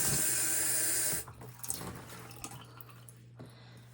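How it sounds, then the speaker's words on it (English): A tap runs loudly for about a second while a glass jar is rinsed, then shuts off, leaving faint drips and small glassy handling sounds nearby. "So I will rinse this one."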